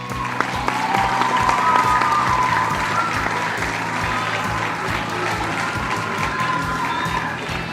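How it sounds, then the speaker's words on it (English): A small congregation at a Sabbath gathering applauds and praises, steady clapping with a sustained vocal tone and background hum, fairly close and even in loudness throughout. "let's give him a big round of applause and praise for the Holy Father Yahuwah"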